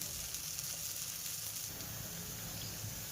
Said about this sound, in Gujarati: પછી પાછું આપણે ફરતું તેલ નાખી દેવાનું અને આપણે ધીમા તાપે ચડવાનું।